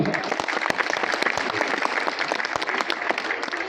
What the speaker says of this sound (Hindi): आप लोग थोड़ा अपने मन के मंच पर पहले आमंत्रित करिए जोरदार तालियों से।